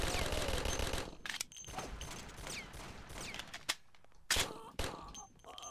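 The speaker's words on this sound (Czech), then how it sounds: "tady ještě někdo střílí" Bursts of gunfire in the video game Mafia, a rapid rattling volley at first followed by scattered single shots and short bursts at a distance.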